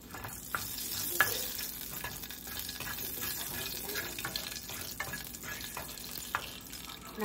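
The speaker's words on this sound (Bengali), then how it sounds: "আর জিরা দিয়ে দিলাম, আর দিয়ে দিলাম শুকনো লঙ্কা, তেজপাতা। এটাকে একটু ভালো করে ভেজে নিই।" Whole spices, cumin seeds, dried red chilli and bay leaf fry in oil in a kadai, a steady sizzle broken by soft stirring scrapes at irregular intervals, close and moderately quiet with no talking.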